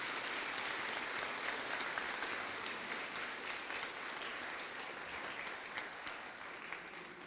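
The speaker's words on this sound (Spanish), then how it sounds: "Un aplauso para Arturo Díaz" An audience at a conference against homophobia and transphobia gives sustained applause for a speaker, steady dense clapping that tapers slightly toward the end, with no voices over it.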